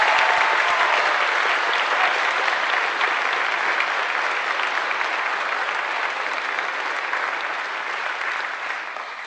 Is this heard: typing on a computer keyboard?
no